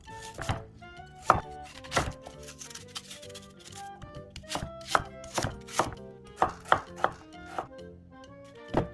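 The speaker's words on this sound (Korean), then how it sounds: "갈아줄 재료들은 순둥순둥 갈기 쉽게 썰어줍니다" A knife chops scallions, onion and a little paprika on a board in quick, evenly spaced strikes, close and crisp, each cut a sharp knock with no talk over it.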